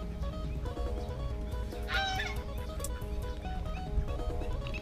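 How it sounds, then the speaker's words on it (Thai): Geese honking with ducks among them at a rural waterside setting near Ayutthaya, Thailand, a brief burst of calls rising over steady outdoor background noise, moderately distant. "มีทั้งหานทั้งเป็ด"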